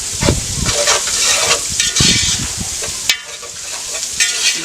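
Garlic and pepper frying in a pan: a steady, close hiss and crackle of sizzling oil, broken by scraping stirs and a few sharp clinks, with no voices.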